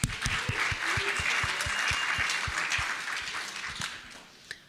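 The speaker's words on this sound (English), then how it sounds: "Why doesn't the audience give themselves a round of applause?" A crowd at a student entrepreneur pitch event applauds warmly, a full wash of clapping with a few louder individual claps, tapering off toward the end.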